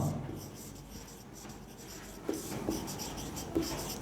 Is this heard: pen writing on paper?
yes